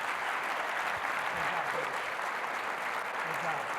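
Audience applause at a gubernatorial candidate forum, a continuous moderate wash of clapping heard at some distance, with faint murmuring voices mixed in.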